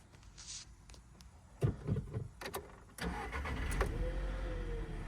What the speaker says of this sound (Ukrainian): Двигун запускається з півоберту, помилок нема ніяких, оберти не плавають.